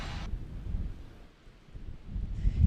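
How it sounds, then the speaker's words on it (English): Strong gusty wind outdoors in a Duluth blizzard, buffeting the microphone in low rumbling surges that ease briefly midway and then swell again. "It is windy out here this morning and the snow is certainly coming down."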